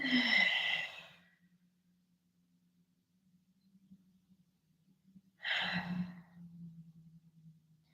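Two long, breathy exhales during a yoga flow are heard close to the microphone, separated by a quiet stretch with a low steady hum and faint rustles.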